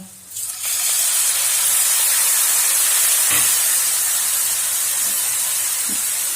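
Water hits salt and garam masala frying in a pan for a chicken gizzard curry, setting off a sudden loud, steady hiss of steam and sizzle that holds without a break.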